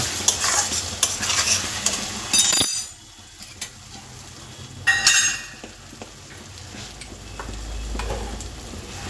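Fish frying with spices in a pan: loud scraping stir strokes over a steady sizzle, then a pause and more stirring with a gentler hiss.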